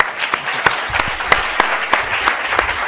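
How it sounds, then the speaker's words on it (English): An audience applauds steadily, many hands clapping together in a sustained wash with a few louder, regular claps standing out. "let's give him a warm round of applause"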